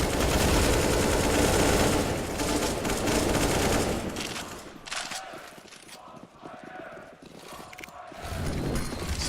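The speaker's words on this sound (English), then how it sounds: "Firing through smokes even." Rapid gunfire bursts from a Counter-Strike match on the Inferno map during a Katowice 2019 final, dense and loud at first, then thinning into scattered shots and mechanical clatter before swelling again.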